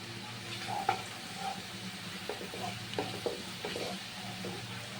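Ginger and grated coconut frying in a pan over a medium gas flame, a low, steady sizzle close by with scattered scraping stirs and light clinks of a utensil against the pan.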